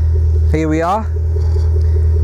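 Range Rover Sport SVR with a quad Akrapovic exhaust gives a loud, steady low engine rumble close by, with a person speaking briefly over it near the start.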